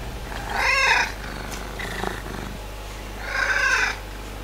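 A pet cat at a guest house in the Bulgarian Balkans purrs close to the microphone in two rasping bursts, one near the start and one near the end, with a quieter stretch between them.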